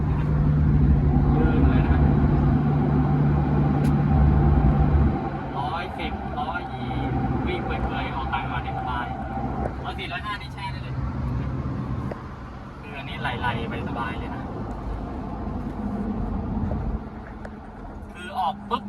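A remapped Toyota Revo 2.8 automatic pickup drums steadily while driving and accelerating, its engine and road hum shifting as it pulls away, while someone talks over it for most of the time.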